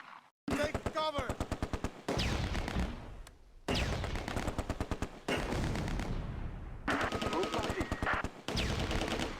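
Heavy gunfire in the Close Combat A Bridge Too Far war game during a Market Garden farmland battle: loud rapid machine-gun bursts and rifle shots in repeated volleys, separated by short pauses.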